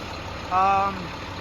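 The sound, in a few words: truck engine idling after an engine swap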